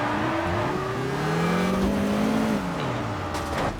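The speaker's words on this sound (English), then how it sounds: "you can definitely hear the turbo spooling up between each gear" A turbocharged car in the Test Drive Unlimited racing game revs hard through its gears, with a whirring turbo spool rising between shifts over a steady, loud engine drone.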